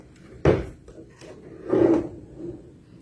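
A wooden drawer is pulled open with a sharp knock followed by a rough sliding rub, then a second longer scraping slide, close by in a quiet bedroom.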